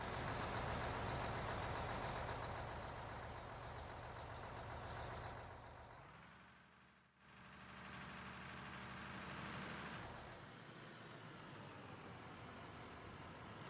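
A truck engine idles in the mining game Out of Ore, a low steady rumble that dips briefly and then settles back to a continuous drone, with no talk.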